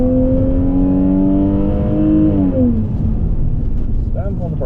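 A Lexus GS300 saloon accelerates hard on a race track during a track day, its engine note climbing steadily and loud up close before dropping as it shifts, with a brief voice near the end.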